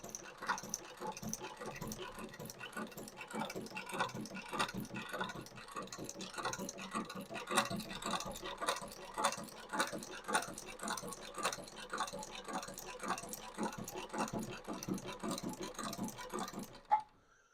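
A long-arm shoe repair sewing machine stitching material, a fast steady ticking chatter of the needle running continuously, fairly quiet and close, stopping at the end.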